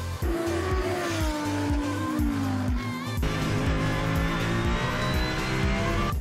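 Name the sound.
four-wheel buggy driving fast around racing circuit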